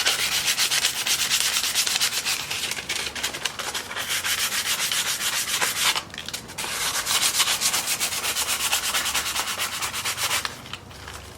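Sandpaper rubbed by hand over a plastic taillight housing, a steady close scratchy rasp with rapid back-and-forth strokes, briefly pausing near the middle and again at the end.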